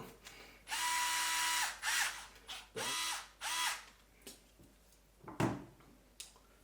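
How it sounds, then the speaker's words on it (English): An electric screwdriver drives screws into a plastic sandwich case, giving several whirring bursts of a second or so each, closely recorded, followed by softer clicks and handling knocks. "if you use this electric screwdriver is that you don't over tighten the screws"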